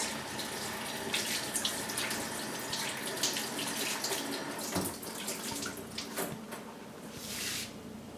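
Water running steadily from a kitchen tap while hands are washed, a constant hiss with small splashes and clatters, moderately quiet and alone.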